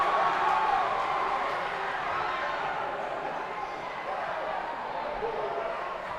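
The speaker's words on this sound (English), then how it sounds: "Listen to this crowd." A high school boys basketball crowd roaring in a gym, a loud sustained wash of cheering and voices that fades slightly over several seconds, with a commentator's voice over it.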